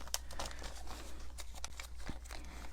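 Stampin' Up tear and tape from a Paper Pumpkin craft kit crinkles and rustles as it is handled, with light crisp crackles and small tearing snaps running steadily throughout, close and soft.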